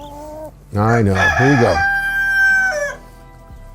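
A rooster on a ranch crows one long drawn-out call, loud and close, with faint clucking around it and a few brief words spoken just before.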